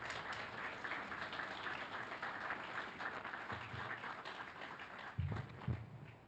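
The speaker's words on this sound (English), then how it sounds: "So how about a round of applause for Dick Saunders?" A crowd at the Coral Canyon annual meeting applauds steadily, dense overlapping claps forming a continuous wash of sound at moderate distance, with a few louder claps near the end.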